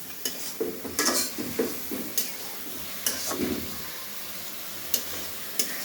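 Pangas river fish and bottle gourd frying in a pan, a soft steady sizzle broken by the scrape and clatter of stirring and several sharp taps of a utensil against the pan, close by with no talking.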